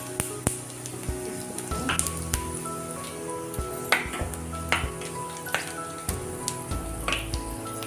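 Whole spices with cumin, black pepper, cinnamon and bay leaf sizzle steadily in about two tablespoons of hot oil in a pan, a dense close crackle with scattered pops and a soft background hum.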